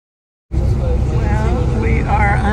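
Tour bus riding through Georgetown, Grand Cayman, its engine cutting in abruptly after a moment of silence and then droning steadily up close, with people talking faintly over the rumble.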